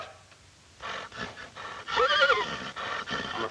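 A horse whinnies in a Western TV scene, a loud, wavering neigh rising and falling in the middle, with faint hoof clops and stirring before and after.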